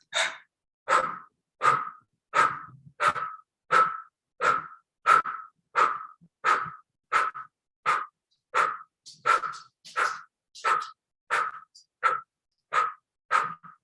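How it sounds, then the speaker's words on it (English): Rapid, forceful blow breaths in a breathwork exercise, about twenty sharp close exhalations in a steady rhythm of roughly one every 0.7 seconds, with no talking over them. "then starting with the blow breath, 30 breaths."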